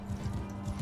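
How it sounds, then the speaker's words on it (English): Horse hooves clip-clop in a quick, uneven rhythm during a mounted battle in Mount & Blade II: Bannerlord, a low, soft patter of several steps heard alone with no talk. "Oh, we're on horseback."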